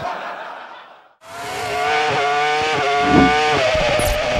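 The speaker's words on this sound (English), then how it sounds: "That is a very sick engine" A Formula 1 car with a failing, smoking engine roars past during a 2004 race, a loud rough whine that cuts in after a brief quieter moment and holds strong to the end.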